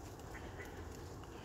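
Ducks quacking and squabbling on a pond during an outdoor walk, a faint, steady chatter of calls heard at a distance over a soft, constant background wash.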